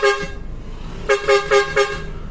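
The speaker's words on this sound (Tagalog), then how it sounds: "Ito nga yung Lightning na air horn" A Nelson LED Lightning air horn fitted to a vehicle honks loudly and close, starting with a soft toot and then four sharp, evenly spaced bright blasts in quick succession.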